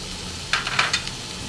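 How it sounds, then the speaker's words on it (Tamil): Cumin powder drops into sizzling biryani masala, giving a brief close burst of frying hiss and a few stirring scrapes over a quiet background. "ஜீரகத்தூள்ப்பா இந்த ஸ்பூனுக்கு 2 ஸ்பூன் எடுத்து வச்சுருக்கோம்."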